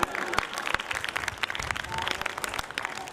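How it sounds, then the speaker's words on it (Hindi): An audience claps at a Hindi poetry recital during a festival, with a moderately loud, irregular patter of individual claps from a crowd and no talk over it. "हर जोड़े पर आपकी तालियां आनी चाहिए"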